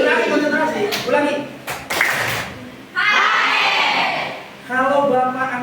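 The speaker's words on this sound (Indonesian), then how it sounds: "Nah, tepuk tangan 1 kali." A classroom of children claps and shouts in short bursts at a teacher's cue, with several sharp clap clusters and loud group shouting mixed with the teacher's speech.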